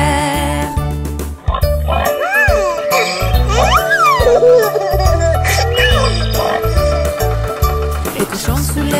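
A sung French children's tune about tractors, with pig-like oinking grunts over steady music; the oinks sound voiced, likely a singer imitating a pig.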